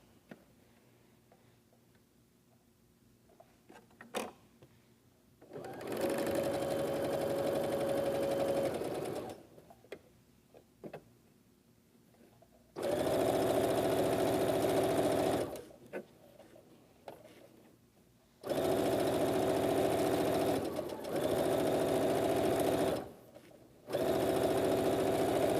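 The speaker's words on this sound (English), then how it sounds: "stitch all the way down the row" A sewing machine stitches quilt rows in three long, steady bursts of fast mechanical whirring, separated by quiet pauses with small clicks and handling noises between runs.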